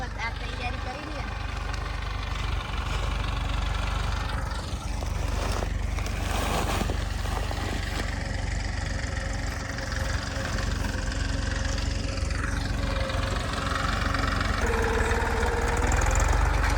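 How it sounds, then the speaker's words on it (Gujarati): A tractor engine idles in a farm field with a continuous low rumble and a steady knocking pulse. People talk over it throughout. "જો આપણા ખેતરમાં ટ્રેક્ટર આવી ગયું ને, તો કામ ચાલુ થઈ ગયું છે।"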